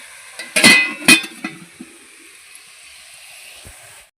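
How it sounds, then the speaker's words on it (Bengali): Dishes clatter and clink a few times near the start, sharp metallic knocks, then quiet running water continues alone, as utensils are scrubbed at a kitchen sink. "ওদিকে ডালটা ফুটতে দিয়ে এসে এদিকে বাসনটাও মেজে নিচ্ছি"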